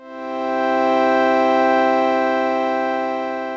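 Synth pad from Ambient Ø with a long attack and release swells in gently, then holds a rich, steady sustained chord that fades slightly at the end, with no voices.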